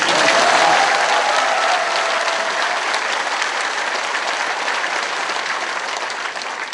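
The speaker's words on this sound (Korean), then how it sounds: "우리 박수 한번 또" Congregation applauding at a Catholic Mass gathering, a steady dense wash of many hands clapping at full strength throughout, easing slightly toward the end.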